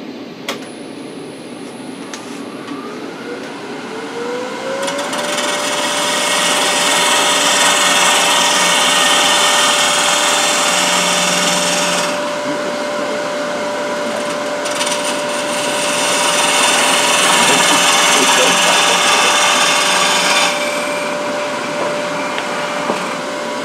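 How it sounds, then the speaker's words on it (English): A wood lathe shapes a spindle during a woodturning demonstration, the cutting tool rasping and hissing continuously against the spinning wood. A steady motor whine runs underneath, and the cutting noise swells and eases in long passes. "So I'm going to go ahead and start shaping the spindle now."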